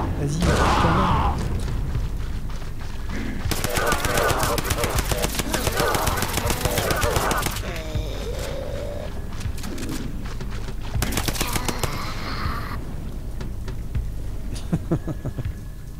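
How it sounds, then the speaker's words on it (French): Gunfire and explosions from the video game Outliver Tribulation fill the mix in loud, dense bursts of rapid shots and booms, with someone talking over the action. "Ça tire des mines, hein. Avec des munitions."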